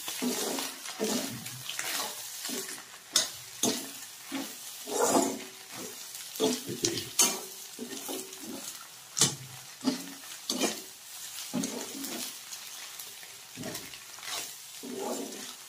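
Egg fry being stirred in a pan: a soft, steady sizzle with repeated scraping and wet stirring strokes coming in an uneven rhythm, fairly quiet and close, with no talk.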